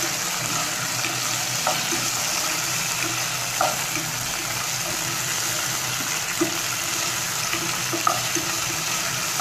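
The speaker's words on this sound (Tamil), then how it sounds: "ஒரு கா கிலோ மாதிரி வெண்டைக்காய் அதை போட்டு நல்லா ஃப்ரை பண்ணுவோம்." About a quarter kilo of okra frying in oil for a fish curry, a constant moderate hiss with a few faint clicks of a spoon against the pan, and no voices.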